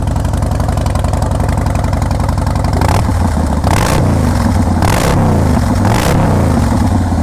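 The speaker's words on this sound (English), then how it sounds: "Let's give it a bit of a rev." A 2016 Harley Davidson Breakout with a stage 1 Bassini exhaust idles with a loud, lumpy rumble, then gets revved in four sharp, roaring bursts close to the microphone, each dropping back to the throbbing idle.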